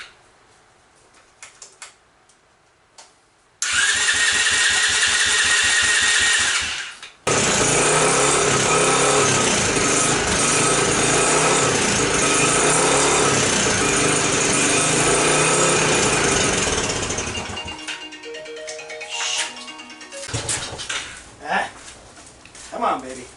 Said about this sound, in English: Get the key on. Pull the choke out.